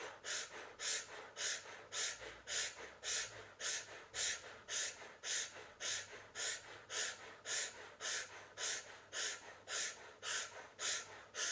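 Fast, deep rhythmic breathing during a breathwork exercise, with about two forceful breaths per second in a steady, unbroken pattern. Close and fairly loud, with no talking.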